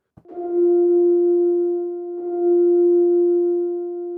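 Soft sustained J8 synthesizer notes washed in an almost fully wet plate reverb with a very long tail, a steady smeared tone that swells in, dips briefly and swells again before slowly fading.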